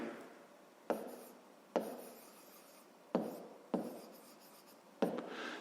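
A math equation being written by hand, heard as close, dry scratching strokes in five separate bursts, each starting with a sharp tap and fading, in a quiet room with no talking.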